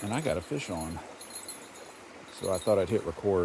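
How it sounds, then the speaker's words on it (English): A small bell hooked on the tip of a fishing rod jingles faintly and lightly in the pre-dawn quiet, mostly beneath someone talking nearby. "I hooked a bell on the tip of my rod"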